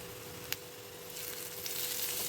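Potatoes fry in a pan for a soya samosa filling, a steady sizzle with a single sharp tap early on and the hiss growing brighter toward the end.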